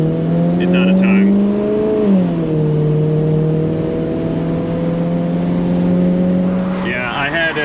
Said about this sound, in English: I tried to give it like 3/4 throttle when I went to pull out, and it just kind of fell on its face a little bit